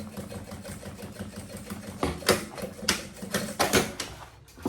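A sewing machine stitching a synthetic lining onto a banana bag runs in a steady, close mechanical chatter, with louder bursts toward the end and no talking.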